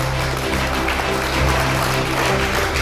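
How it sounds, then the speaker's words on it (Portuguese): A church congregation applauds at a Brazilian worship service, a dense, loud, sustained clapping wash filling the room without pause. "Você pode aplaudir para Jesus?"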